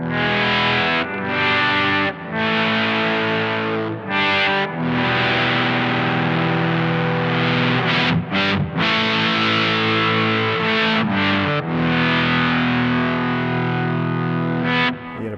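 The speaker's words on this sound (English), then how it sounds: "pretty cool volume swell sound going on" A Supro Drive overdrive pedal: a sustained, heavily distorted electric guitar swells in and out, chords blooming and fading with brief dips between, loud and alone.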